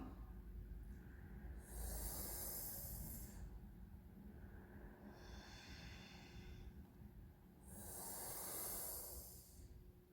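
Slow, controlled breaths during a yoga breathing exercise, with long audible inhales and exhales separated by a held pause, close and fairly loud over a low steady room hum, with no talking.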